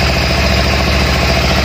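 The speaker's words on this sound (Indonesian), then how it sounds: "Motornya sudah hidup." Kawasaki Ninja 250 motorcycle engine idling close by, loud and steady with an even, rapid pulsing throb and no other sounds over it.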